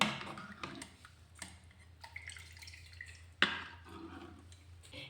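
Water drips and trickles faintly as it drains from fresh paneer curds, with scattered soft drops and small splashes over quiet background.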